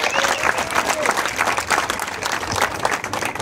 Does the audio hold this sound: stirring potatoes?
no